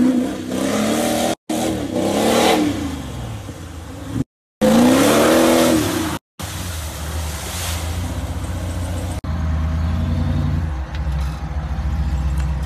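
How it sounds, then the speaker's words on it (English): A 700-horsepower Jeep Wrangler engine revs hard and loud, with repeated surging roars and a brief tire squeal, broken by a few sharp cuts before settling into a steady, heavy rumble. "let me just show you this Jeep in action"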